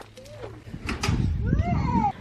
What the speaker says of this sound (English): Hey, look, there's the kitty.